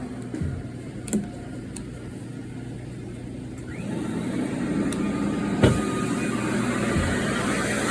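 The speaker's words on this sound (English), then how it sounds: "What this is doing is scrubbing the floor again and sucking it all back in." A floor scrubbing machine scrubbing a floor with cleaning solution and vacuuming it back up, a steady motorized hum and whir that swells slightly midway, with a few brief knocks.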